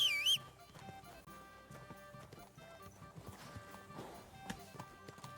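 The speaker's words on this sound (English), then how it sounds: "This horse has served me well." Horse hooves clip-clop in the video game Kingdom Come: Deliverance II, irregular soft taps under game music, with a brief whinny-like squeal at the start.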